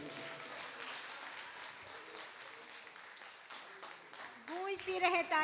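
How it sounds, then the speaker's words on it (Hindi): A crowd applauds at an alumni stage event with sustained, moderate clapping from many people. Near the end it swells louder as a voice comes in over it. "गूंजती रहे तालियों की आवाज"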